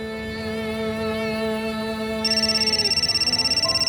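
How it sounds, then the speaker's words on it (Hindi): A telephone ringtone with a steady musical tone and then rapid repeated electronic trills, loud and close, with no talking. "बैक टू बैक पिग्गी मुझे फोन करके परेशान कर रहे हैं"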